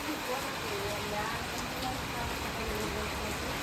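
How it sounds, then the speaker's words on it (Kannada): Steady rain falls in a village where vegetables are being sold, an even, dense hiss that continues unbroken without pauses. "ಅದೆಲ್ಲ ಮಳೆ ಅಯ್ಯ ಬೆಳಗಾನ ಹತ್ತದಪ್ಪ ನಮಗೆ ಕಿರಿಕಿರಿ ಮಾಡಕತ್ತದ"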